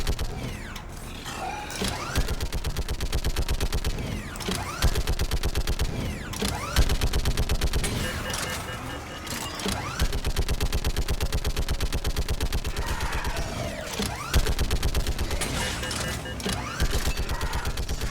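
Rapid turret gunfire from a mounted gun in the Mass Effect 3 video game, a dense continuous stream of shots with brief pauses, loud and close, layered with mechanical clatter.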